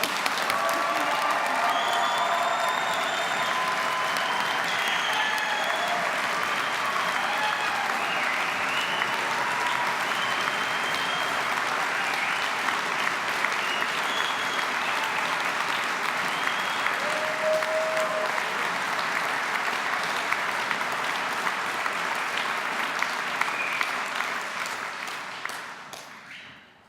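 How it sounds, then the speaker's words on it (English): A large audience at a university degree ceremony applauds graduates in a long, loud, continuous roar of clapping with faint cheers, sustained for over twenty seconds before tapering off at the end. "let's just give these amazing graduates one more huge round of applause"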